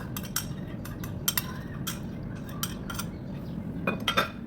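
A spoon beats three egg yolks with salt and black pepper in a bowl, giving steady scraping and irregular sharp clinks against the bowl's sides at close range.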